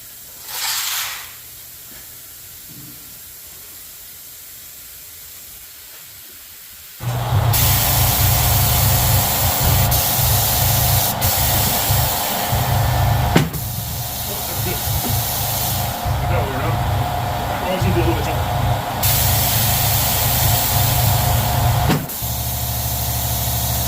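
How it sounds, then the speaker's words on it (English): A rusty rim clamp tire machine breaks a tire bead. After a quiet stretch, a loud, sustained pneumatic hiss and rumble starts abruptly and runs nearly unbroken, with a few sharp clunks and brief drops in level. "First I need to break the bead."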